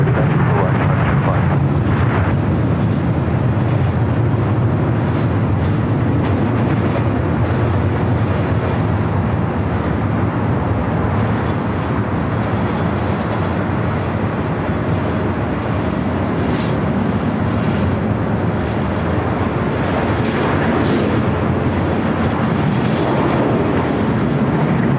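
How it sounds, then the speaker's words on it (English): A Boeing 767 airliner arriving from JFK at LAX, a steady broad jet rumble and roar from a distance, sustained without breaks for the whole stretch and mixed with faint outdoor background noise. "At that 767 coming in from JFK, heading into the gates."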